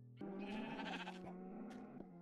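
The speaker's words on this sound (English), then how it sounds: "We were greeted by our wonderful pink sheep." A pink sheep in the video game Minecraft, heard as one long, wavering bleat, then a few fainter clicks, close up and on its own.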